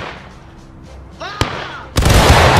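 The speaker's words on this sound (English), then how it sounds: "Company, fire by company!" A company volley of musket fire in the Civil War video game War of Rights: a single sharp crack, then a louder, dense burst of many shots together, preceded by a shouted voice.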